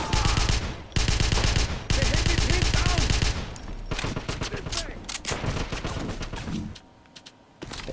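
Rapid, loud gunfire in a first-person shooter with a Kar 98 bolt-action sniper rifle, heavy bursts with dense overlapping reports, then scattered sharper shots trailing off, with faint talk under the action.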